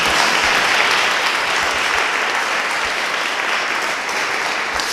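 An audience applauds in a hall, a dense, steady wash of clapping from many hands that holds loud and even throughout.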